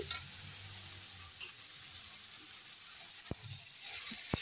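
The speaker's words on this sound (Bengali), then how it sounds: "এখন দিয়ে দেবো এখানে লঙ্কা আদা জিরা বাটা। দিয়ে ভালো করে নেড়ে নিচ্ছি।" Chilli, ginger and cumin paste frying and being stirred in a pan, a steady soft sizzle throughout with a couple of brief scraping knocks near the end, no voices.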